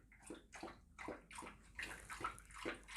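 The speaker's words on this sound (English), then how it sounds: "The dog's having a drink of water." A dog laps water in a series of rhythmic wet slurps and splashes, about six quick bursts over a few seconds, close and moderately loud with no talking.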